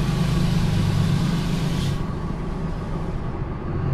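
Heavy truck engine running through a billet valve body automatic transmission, steady low drone with a brief shift change midway as it downshifts and pulls again, close and continuous.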